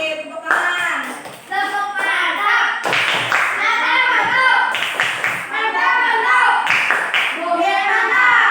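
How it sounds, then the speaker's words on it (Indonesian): A school class claps hands in short, sharp bursts between stretches of a teacher and children talking, the clapping loud and close. "Tepuk tangan."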